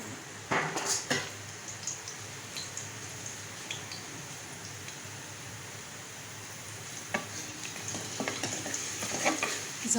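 Garlic fries in oil in a kadhai with a soft, steady sizzle, broken by occasional clinks and scrapes of a spoon stirring against the metal pan.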